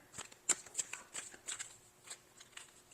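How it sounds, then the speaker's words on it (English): Tarot cards being shuffled in quick, crisp bursts of riffling and snapping, close up and fairly quiet, with no talking. "I want to shuffle better."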